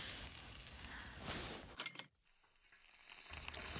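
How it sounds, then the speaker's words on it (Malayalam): Chopped onion, crushed ginger and three green chilies sauté in a pan for Kerala sadya cabbage thoran. A soft, hissing sizzle breaks off briefly partway through, then returns quietly. "കുറച്ച് സവാള കൊത്തിയരിഞ്ഞതും കുറച്ച് ഒരു ചെറിയ കഷ്ണം ഇഞ്ചി ചതച്ചതും 3 പച്ചമുളക് ഇട്ടിട്ട് ഒന്ന് ഇങ്ങനെ സോട്ട് ചെയ്തെടുക്കും"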